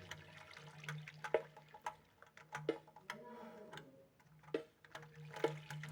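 Water from a bucket in Minecraft, a short flowing, swishing splash among scattered clicks of block placement and footsteps, fairly quiet and close, no talking.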